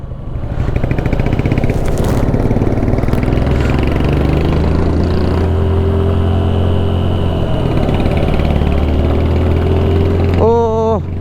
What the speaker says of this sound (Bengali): 1 নম্বরে গাড়ির সাউন্ড পুরোটাই আলাদা হয়ে গেছে।